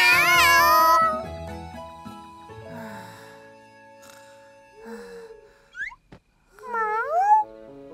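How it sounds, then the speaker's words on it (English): Cartoon cat meowing in a children's animation, several short rising and falling meows, faint at first and then louder near the end, following a brief musical sting. "Meow. Meow. Meow."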